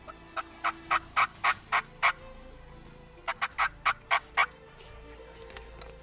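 Merriam's wild turkeys gobble back during a spring hunt, two bursts of about seven rapid rattling gobbles each, clear and moderately distant, followed by faint chirps.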